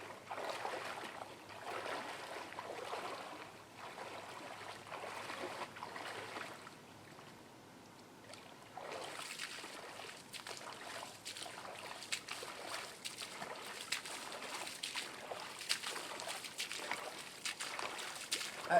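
Water sloshing and swirling around Altama Pro-X jungle boots as someone wades, a steady trickling wash with rhythmic surges of splashing from each step, close and continuous, with no voices.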